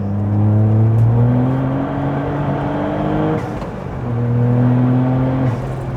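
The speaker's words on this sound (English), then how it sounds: "You got a lot of snap and crackle at the back, haven't you?" A modified all-wheel-drive Toyota GR Yaris Rallye accelerates hard through several gear changes, its engine note climbing and dropping loudly and steadily, with faint crackle from the exhaust between shifts.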